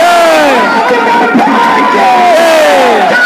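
Huge crowd cheering and shouting at a Durga idol immersion procession in Munger, a dense roar of many voices with rising whoops and calls, loud and continuous.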